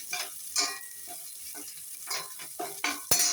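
Curry leaves frying in hot oil for coconut rice, with bursts of sizzle and stirring clatter coming in short uneven pulses and a sharp crackle near the end, close and fairly loud.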